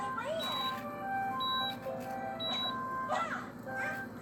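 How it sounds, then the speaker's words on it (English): A coffee pot in a home kitchen gives a series of short electronic beeps, clear but moderately quiet, while a child and an adult talk nearby in the morning. "Why is my coffee pot beeping at me?"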